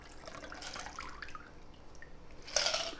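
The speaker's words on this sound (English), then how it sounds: "We're now going to pour this into our martini glass." A basil martini is poured into a martini glass, a soft trickling liquid stream with faint drips, quiet and close, ending in a brief brighter splash near the end.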